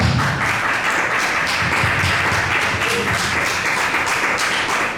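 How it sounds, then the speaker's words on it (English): Audience applause at a Downey city council candidate forum, a dense steady patter of many hands clapping throughout, moderately loud in a hall with faint murmuring beneath. "If we could please refrain from applause"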